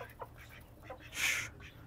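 A chicken gives a few soft clucks and one louder, brighter squawk near the middle, with faint background noise throughout.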